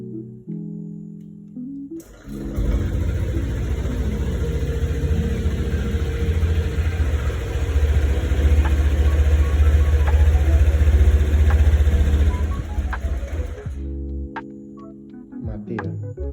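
A motorcycle engine idles steadily and loud for about twelve seconds, a low continuous rumble before a grounding cable is fitted, starting abruptly after a quieter opening and dropping off near the end.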